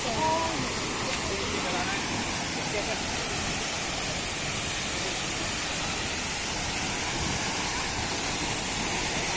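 A constant broad roar of falling water, loud and even throughout, like standing near a waterfall, at Gitgit Waterfall in Bali.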